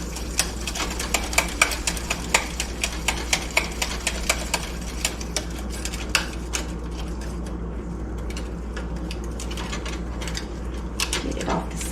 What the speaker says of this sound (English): You want to stir this good to get all those lumps out of the flour.